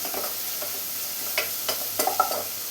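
Beef with shallots and curry leaves sautés in a pan for Kerala-style beef varattu, giving a soft steady sizzle broken by several sharp scraping and clinking stirs of the spoon.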